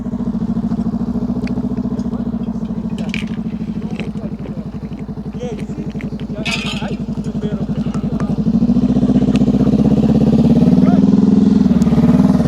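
A motorcycle engine idles and revs during slow-speed riding practice, a steady low rumble that grows louder and rougher toward the end as the throttle opens, while a person talks over it.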